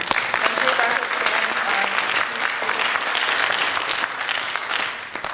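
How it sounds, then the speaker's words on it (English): Applause from a conference audience, a dense and sustained burst of clapping that stays loud throughout, with a voice briefly audible within it. "let's give her a big applause"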